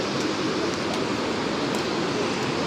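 A mountain waterfall on the trek to Annapurna Base Camp in Nepal rushes steadily nearby, a continuous broadband roar of falling water with no pauses or other distinct sounds.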